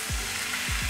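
Zucchini noodles with chicken and basil sizzling in a pan as they are stirred, a steady close hiss of frying with a few soft scraping strokes.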